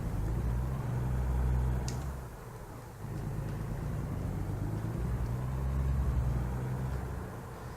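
Low diesel rumble of a Peterbilt 567 truck engine with 650 horsepower in American Truck Simulator, a steady drone that dips briefly then swells again, fairly quiet with no voices.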